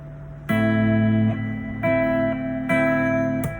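Guitar notes from three strings plucked together with the thumb on the fifth string, part of a song, ringing in three clear sustained chords that overlap and decay, with no voice.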